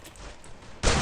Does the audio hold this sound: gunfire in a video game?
yes